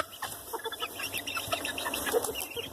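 An Olandsk Dwarf hen chatters with soft, quick clucks and murmurs, close and fairly quiet, in a continuous run of little calls.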